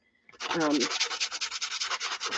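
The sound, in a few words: sanding wood edges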